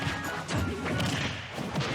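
An up smash attack landing in a Super Smash Bros. 4 championship match: a sharp impact crash over busy crowd noise and commentary, with a few more hits following.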